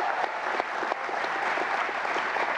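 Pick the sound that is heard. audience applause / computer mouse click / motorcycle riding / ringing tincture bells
audience applause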